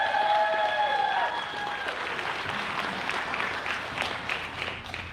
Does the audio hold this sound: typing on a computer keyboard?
no